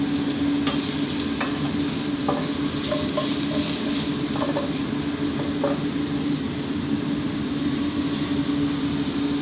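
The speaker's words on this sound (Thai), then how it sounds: "ให้เห็ดโดนกับกระทะน้ำมันร้อนๆ" Steady, continuous sizzling of mushrooms being stir-fried in a hot oiled pan for vegetarian fried rice, with occasional scraping clicks of a utensil.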